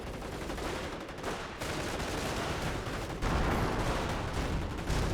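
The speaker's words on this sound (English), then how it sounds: "Great strafing run there" Sustained, dense rapid gunfire from an aircraft strafing run in the World War II strategy game Company of Heroes. The fire is loud and continuous for several seconds, with no voices.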